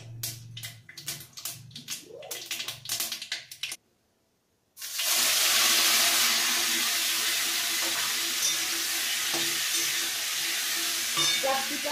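Capsicum, green and red chillies and half a tomato with salt drop into hot oil with nigella and mustard seeds, breaking into a loud, close, continuous sizzle after a moment of quiet and earlier kitchen clatter.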